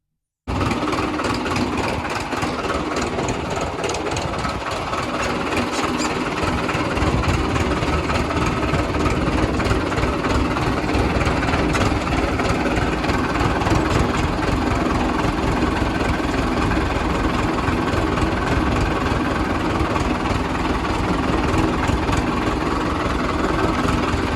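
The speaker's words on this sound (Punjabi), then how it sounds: "ਕਰਦੇ ਆ ਟਰੈਕਟਰ ਟਰਾਲੀ ਪੈਲੀ ਵੱਲ ਨੂੰ" A heavy tractor diesel engine runs steadily for the whole stretch, a loud rumbling drone with rhythmic knocking, close by and without pause, while hauling a trolley to the paddy field during rice harvest.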